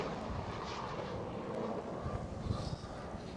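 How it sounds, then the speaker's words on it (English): A KLM Cityhopper Embraer E190 passes at Schiphol Amsterdam, its engine noise a faint, steady jet rumble with light wind noise on the microphone. "KLM City Hopper E190."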